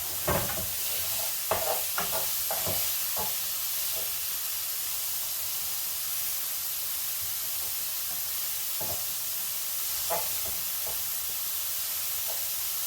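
Beef mince being stirred in a frying pan, a constant soft hiss and sizzle with scattered scraping and tapping strokes that cluster early, thin out, then return.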